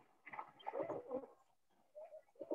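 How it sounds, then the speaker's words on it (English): A pigeon coos nearby in soft, throaty warbling phrases, a longer burst followed by a pause and two shorter calls, quiet and alone. "Sound of pigeon bird."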